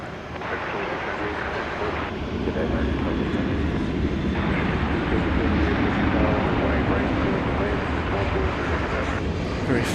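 A jet airliner painted in PSA retro livery rumbles steadily at DFW Airport at night, a broad continuous engine roar that swells slightly partway through, with voices talking over it.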